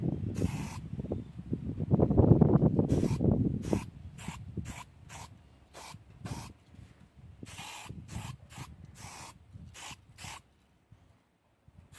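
A spray can hisses in repeated short bursts over rust repair on the body of an XC Ford Falcon wagon, a rhythmic series of close, crisp sprays after an opening stretch of rustling handling noise.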